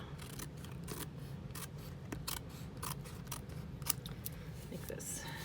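Scissors snipping the paper cover of a mini composition notebook, a string of quiet, close crisp cuts spaced irregularly over faint background hiss.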